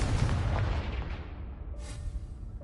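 Confringo fire spell from the Hogwarts Legacy video game bursts in a loud, booming blast that rolls and decays over a couple of seconds, followed by a brief higher crackle near the end.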